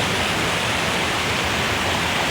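A golden-colored waterfall gives off a dense, steady rush of falling water. The roar is loud and unbroken and fills the whole moment.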